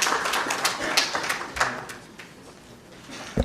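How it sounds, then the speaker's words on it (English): Conference audience claps to welcome a speaker: a moderate, scattered round of applause from a roomful of people, thinning out toward the end. "Please welcome Mayaka with a round of applause."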